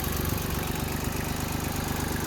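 A farm tractor idles with a steady, close, rumbling drone and a faint rhythmic knock, holding an even level with no voices.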